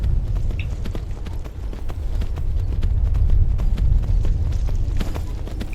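Horse hooves galloping over rough ground in the Skyrim video game, a steady run of low thudding clip-clop that carries on without a break under a game soundscape.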